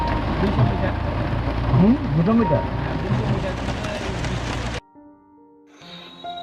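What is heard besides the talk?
heavy rain falling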